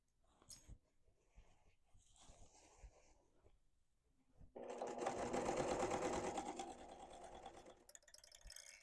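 Sewing machine quilting straight lines on fabric for a market tote bag: a few quiet clicks and handling sounds, then the motor starts up into a steady, fast needle whir that runs to the end.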